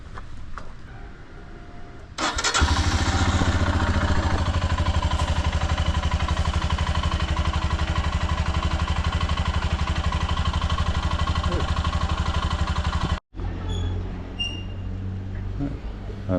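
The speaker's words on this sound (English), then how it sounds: "let me start the engine so you can hear it" A motorcycle engine starts with a burst and idles loudly and steadily in Ladakh, India, cuts out briefly near the end, then rumbles again.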